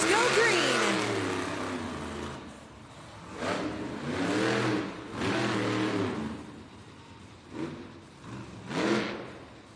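Monster trucks at a Monster Jam arena race in Baltimore revving their engines at the start, a series of loud surging roars that swell and fade in bursts, with voices mixed in.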